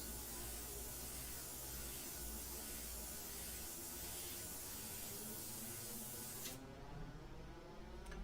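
Steady, continuous hiss of a custom Xtreme Patriot airbrush spraying paint, close and even for about six and a half seconds before cutting off abruptly, with no voices.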